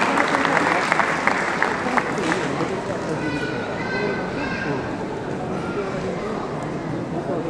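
An audience claps at a Nepal Bible Society golden jubilee ceremony, a dense patter of applause filling the hall, moderately loud and steady, with some voices and murmuring underneath.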